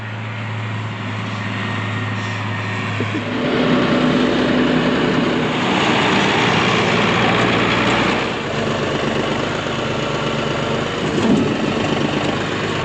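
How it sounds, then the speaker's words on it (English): An old tractor engine idles steadily, its low rumble holding close and loud for the whole stretch, with a brief drop in tone early on and no talk. "This is the oldest tractor I've ever driven."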